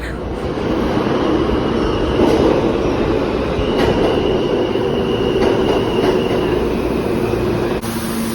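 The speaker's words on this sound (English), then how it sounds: "we made it to the subway" A New York City subway train rumbles steadily, loud and close, with a rolling roar, faint rhythmic wheel clacks and a brief metallic squeal near the end.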